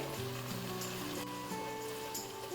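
Onions fry in a pan for a Kerala choora (tuna) fish curry, a dense continuous sizzle and crackle that holds evenly throughout with no talk.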